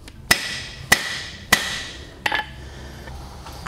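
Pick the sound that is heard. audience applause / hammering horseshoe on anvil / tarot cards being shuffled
hammering horseshoe on anvil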